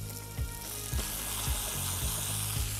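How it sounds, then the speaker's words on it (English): Pork pressed skin side down into a hot pan sears with a steady, close sizzle, while several soft thumps and scrapes of stirring or pan movement recur about every half second. "Get your pork skin side down."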